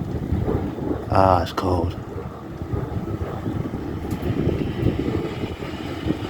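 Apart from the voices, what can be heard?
wind picking up during a thunderstorm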